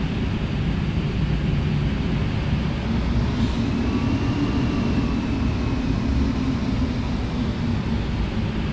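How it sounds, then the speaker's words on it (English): An airliner taxis onto the runway in Microsoft Flight Simulator X, a steady droning engine hum with a faint whine rising over it, continuous and even throughout. "We're now taxiing onto the runway, like so"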